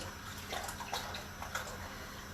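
Half a litre of milk pours in a steady liquid rush into a roux sauce cooked with white wine and Dijon mustard, continuous and close, with no talking.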